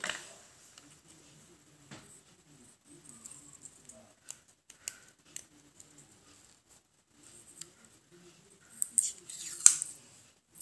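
Scissors snip repeatedly, with sharp crisp cuts at an irregular pace, and quiet talking underneath.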